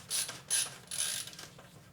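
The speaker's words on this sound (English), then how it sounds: "A couple more screws and we'll have this apart." Screws being backed out of the chassis of a Macintosh G3 all-in-one computer, giving three short bursts of light metallic ratcheting and clicking, close and fairly quiet, with no talking.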